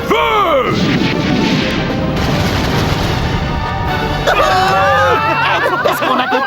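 Dense, chaotic booming and crashing blasts of English naval cannons firing in a cartoon, with excited shouting voices over the din and a whistling tone near the end.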